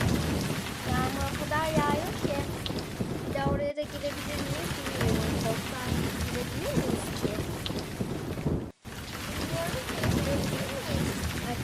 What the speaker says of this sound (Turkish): dışarıda yağmur yağıyor